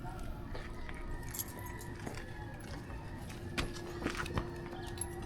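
Keys jangling in a house as a parent gets ready for the school run, light metallic clinks and rattles at close range with brief louder jingles near the end, under faint background noise.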